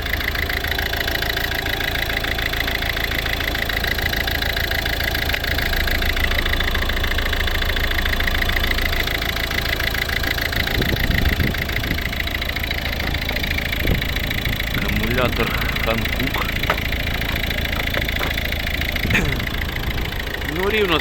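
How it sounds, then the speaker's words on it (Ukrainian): A 2011 Volvo C30 R-Design 1.6 D2 diesel engine idles with a steady, even rumble and faint rhythmic knocking throughout, while someone speaks nearby over it. "Ось робота двигуна."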